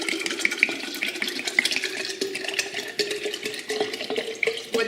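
Tap water runs steadily into a container while kefir is prepared, a continuous splashing stream with small drips and gurgles, close and fairly loud, with no talking.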